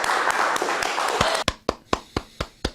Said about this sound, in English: Let's get a round of applause in the room